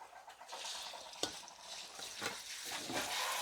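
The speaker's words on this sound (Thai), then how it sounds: "ใส่หมูนิดนึงนะคะ ผัดหมูให้สุก" Pork stir-fried with fried garlic in a pan, for a kale and sun-dried pork dish, gives a steady close sizzle with occasional spatula scrapes and one sharp clank partway through; no talking.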